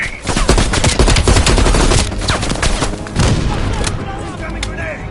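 Dense machine gun suppressing fire and scattered explosions rattle through a Call of Duty Cold War battle, rapid loud bursts that crowd nearly every second, with shouted voices mixed into the din.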